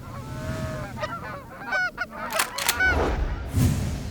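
A Zink goose call blown by hand, giving a run of short nasal honks and clucks in an uneven rhythm, close and fairly loud, imitating goose honks with no talking.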